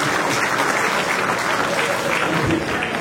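Sustained audience applause fills a French television studio or stage show after a contestant's answer, dense and steady throughout with a murmur of voices under it.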